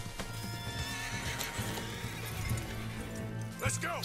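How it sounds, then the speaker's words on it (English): A horse in the Western video game Red Dead Redemption 2 whinnies near the end while hooves clip-clop throughout, all under a steady bed of game ambience. Sharp clatters are scattered across the clip. "Come here, horse."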